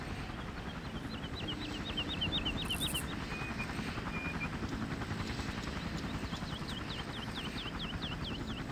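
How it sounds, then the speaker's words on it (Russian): Helicopter in the video game Far Cry, a steady rotor thrum with rapid rhythmic chopping that stays constant throughout, with faint chirping bird calls above it and no talking. "Вертолет?"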